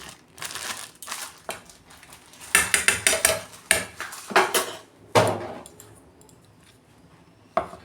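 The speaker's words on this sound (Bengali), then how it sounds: "আমি ভালো করে মেখে নেব।" Fish roe fritter batter with ground coriander, cumin, green chilies and chili powder is mixed by hand in a bowl, giving close, irregular clinks, squelches and scrapes in uneven bursts with no talk.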